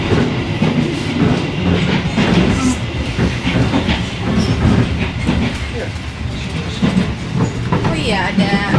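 Steady rumble and rhythmic clatter inside a moving passenger train running from Yogyakarta to Jakarta, with continuous wheel and carriage noise throughout and faint voices mixed in.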